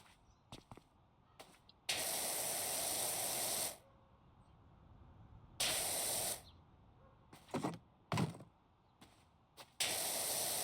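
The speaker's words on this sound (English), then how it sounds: "A lot of spraying, a lot of high pressure water." High-pressure water spraying in PowerWash Simulator, a loud hissing jet in several bursts of a few seconds each, separated by quiet gaps and short spurts.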